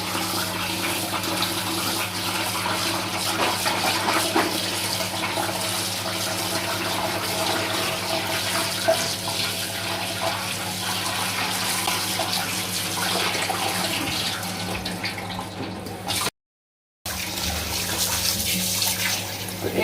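Taro root being rinsed in a strainer under an open running tap, a steady continuous rush of water close by that runs almost without pause, broken by one brief silent gap near the end.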